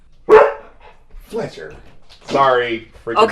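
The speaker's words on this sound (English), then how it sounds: "It sounded like he barked straight into the microphone." A dog barks straight into a microphone, one loud sharp bark right up close, followed by mixed talk and a few softer dog-like sounds.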